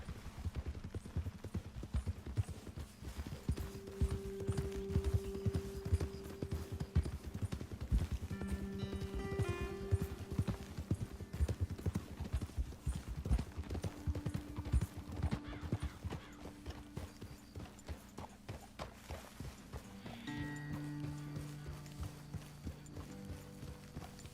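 Horses in Red Dead Redemption 2 clip-clop along in a steady, rhythmic hoof beat, with an occasional whinny and soft game music underneath, the pace easing toward the end.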